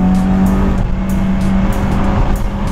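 Honda Civic FD modified toward Type R style, pulling hard at full throttle in second gear on an empty road: a loud, close, continuous engine roar with a steady drone and slight fluctuations, heard from inside the car.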